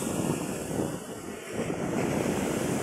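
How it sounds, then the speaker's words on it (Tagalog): Strong wind by rough sea at New Washington, Aklan, a continuous loud rushing roar buffeting the microphone, blended with surf, steady throughout with no talking. "Ang lakas ng hangin"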